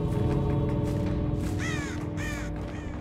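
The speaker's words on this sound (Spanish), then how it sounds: "Acaba de saltar un cuervo allí." Crows cawing in the Dead by Daylight horror game, a few harsh calls rising over a steady low ambient game drone before the birds take off.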